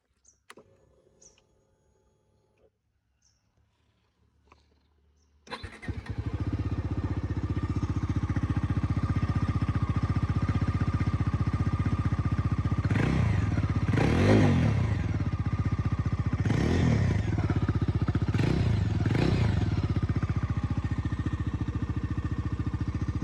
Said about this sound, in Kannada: ಸೊ ಇದ್ರದ್ದು ಎಕ್ಸಾಸ್ಟ್ ನೋಡ್ಕೊಳ್ಳೋಣ ಯಾವ ಥರ ಇದೆ ಅಂತ